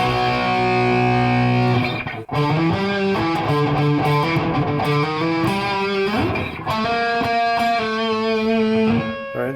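An electric guitar is played through a Chaos Stratus multi-effects pedal with room reverb. It rings out in sustained chords and melodic lines with a spacious tail, loud and close, pausing briefly twice.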